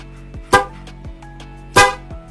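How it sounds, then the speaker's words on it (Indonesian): Two loud blasts from a Kajito premium double snail car horn under test, each a short bright honk, separated by a pause, with faint background noise between. "Seperti ini suara klakson dari double keong premium dari Kajito."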